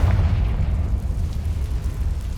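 A Confringo fire spell explodes in Hogwarts Legacy on PS5 with a dense, sustained boom and rumbling roar that stays loud and heavy for its whole length, with no speech over it.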